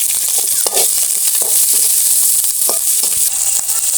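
Onion, green chili, fenugreek seeds and curry leaves crackle and sizzle loudly in hot oil for a village-style fish curry, a dense continuous hiss with sharp spitting pops throughout.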